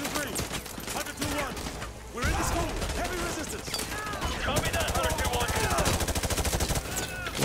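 Rapid gunfire and bursts from Call of Duty: Modern Warfare 2 multiplayer, loud and continuous with explosions and clatter, mixed with game voices and in-game effects throughout.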